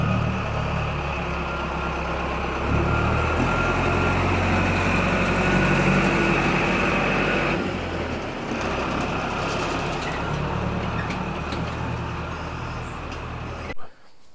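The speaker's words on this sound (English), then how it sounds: "You must travel on the train bus if you come here." Tourist train bus rolling through Old Town Rauma, its engine idling and running as a steady, continuous drone with ambient street noise, cutting off abruptly near the end.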